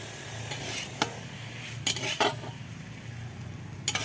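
A metal spatula stirs basanti pulao in a pan, giving a few sharp scrapes and clinks at uneven intervals over a steady low hum.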